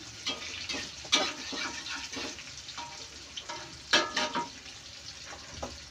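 Tempe fries in a pan with a soft, crackling sizzle, broken by occasional louder pops and spatters at close range, with no talk.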